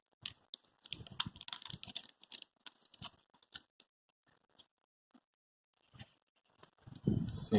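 A realme Buds Q earbuds package is opened by hand, with sparse, close clicks, taps and crinkly rustles coming in bursts, ending in a louder handling rustle.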